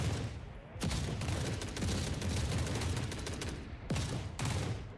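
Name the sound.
sniper gunfire in video game The Forever Winter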